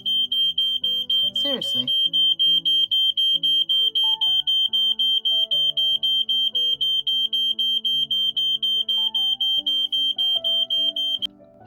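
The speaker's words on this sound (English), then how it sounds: "I didn't even think that that might set off the alarm." A home smoke alarm set off by wax seal making shrieks in a rapid, continuous train of piercing beeps, loud and close, until it abruptly cuts off, while someone talks over it.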